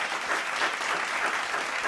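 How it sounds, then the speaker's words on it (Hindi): An audience at a national achievement day celebration applauds Ruby distributors with continuous, even clapping from many hands, a steady moderate-level wash heard alone without talk. "जोरदार तालियां उन सभी रूबी डिस्ट्रीब्यूटर्स के लिए"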